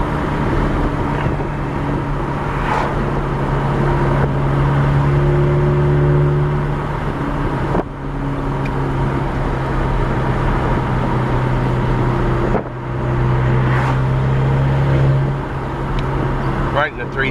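A VW GTI with a 3-inch APR downpipe and straight pipes drones steadily from the exhaust while the car drives, loud and continuous with brief dips as the engine revs shift, under occasional talk.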